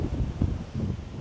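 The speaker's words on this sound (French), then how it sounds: "Il y a un peu de vent, un peu beaucoup, ça me décoiffe." Strong gusty wind buffets the microphone outdoors in a park, a brief, close, low roaring rumble with a faint rustle.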